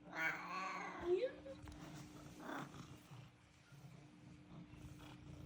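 A pet cat lets out a loud, drawn-out yowl close by in the first second or so, then quieter murmuring and household noise follow with a voice faintly in the background.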